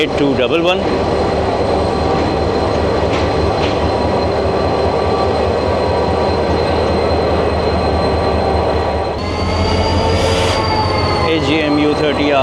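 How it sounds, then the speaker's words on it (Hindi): A locomotive pulls in alongside platform 1 at a railway station, its loud, continuous rumble and squealing wheels running throughout, with a voice heard briefly. "प्लेटफॉर्म नंबर 1 पर 149 अप मेहरान एक्सप्रेस को ले जाने के लिए लोकोमोटिव आ गया है"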